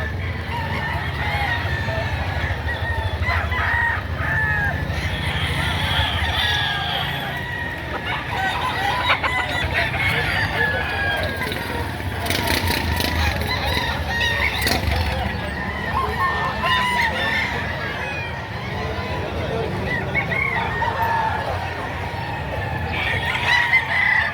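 Chickens and roosters at a poultry market in Padre Garcia, Batangas, clucking steadily with repeated crowing rising over a busy, crowded background, while people talk throughout.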